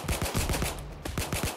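Rapid gunfire aimed at the player in the heist shooter Payday 2, loud close bursts of automatic shots in quick succession with a brief pause midway.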